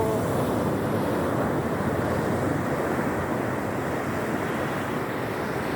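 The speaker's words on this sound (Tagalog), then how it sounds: "Dito kami ngayon sa dagat." Steady roar of ocean surf rolling onto the shore, continuous and fairly loud, with wind buffeting the microphone throughout.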